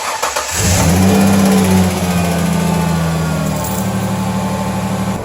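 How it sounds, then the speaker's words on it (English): A 1999 Ford Ranger pickup's 3.0 V6 cranks and catches, revs up loudly close by, then drops to a steady rumbling idle after a timing cover gasket and coolant leak repair. "it's finally time to start up the truck."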